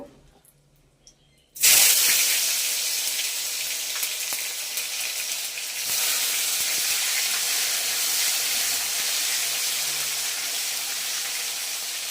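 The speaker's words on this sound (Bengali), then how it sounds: "পুরো ফুটছে, জল আছে তো তাই ফুটতেছে।" A Bengali cauliflower and paneer curry with cumin boils in a pan with water, giving a sudden loud sizzling hiss that starts abruptly and then settles into a steady, bubbling roar.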